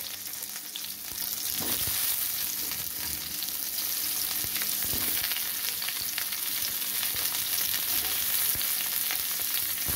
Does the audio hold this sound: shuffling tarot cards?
no